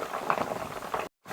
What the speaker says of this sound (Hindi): अब अभी तक इसका पानी खुश्क नहीं हुआ, अभी ये आवाज़ आ रही है जो पानी की।